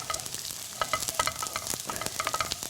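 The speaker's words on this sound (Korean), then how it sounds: "멸치는 볶다가 설탕을 넣기 때문에 또 여기 설탕이 기름에 볶아지면서 또 팬이 지저분해질 수 있어서" Dried anchovies are stir-fried with sugar in a pan, giving a close scraping stir with bursts of crackling sizzle in a quick, uneven rhythm and no voices.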